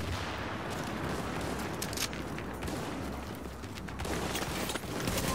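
Dense, continuous gunfire and explosions from a shooter game, The Division 2, in a challenge-mode event at the Lexington Event Center, a steady roar of rapid shots with sharper bursts throughout.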